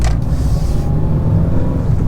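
A broken Fiat 500 driving with a banging fault, giving a loud low rumbling engine and road drone with a brief sharper knock near the start.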